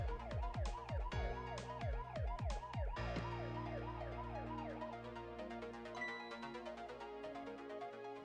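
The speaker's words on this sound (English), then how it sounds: "Turn on the siren, which gets his attention because his head is in the van." A video game electronic siren wails with a rapid rising-and-falling yelp for a few seconds, then shifts into a slower steady wail, loud and close.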